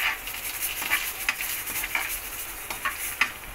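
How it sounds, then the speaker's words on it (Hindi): Cashews, almonds and charoli fry on low heat for potato kheer, giving a soft, steady sizzle broken by regular scraping stirs of a spoon, with no voices. "थोड़े हमने काजू लिए, थोड़े बादाम लिए और थोड़ी चारोली लिए, ये हम इसको पहले तल के निकाल लेंगे।"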